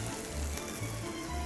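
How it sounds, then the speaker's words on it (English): Steady crackling sizzle of turkey burger patties frying on a hot griddle, dense and continuous with a low hum underneath. "That's the sizzle you want right there."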